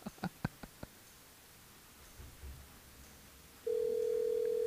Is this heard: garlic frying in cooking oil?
no